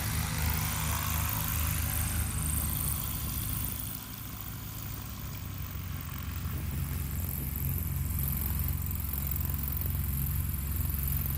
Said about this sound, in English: We've got some new wings taxiing up to the line.